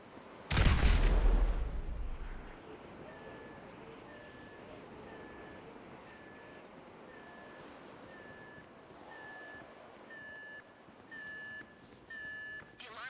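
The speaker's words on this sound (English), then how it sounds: "The alarm's been tripped." Security alarm in the Grand Theft Auto game going off after an explosion at a bureau raid, heard as a loud blast followed by a steady repeating electronic beep that grows slightly louder toward the end, with no talk.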